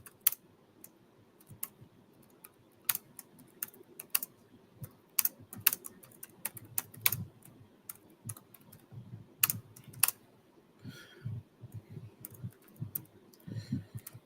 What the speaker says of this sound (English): I didn't think I have to type it now